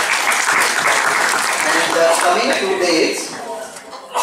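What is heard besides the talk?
audience applause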